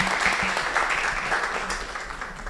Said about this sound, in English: Perhaps we can give them a round of applause as Martha makes her way here.